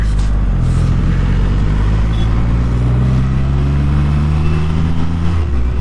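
Triumph Rocket 3 motorcycle engine while riding, a loud continuous low drone with pitch gradually rising and falling as speed changes, steady and close with no talk.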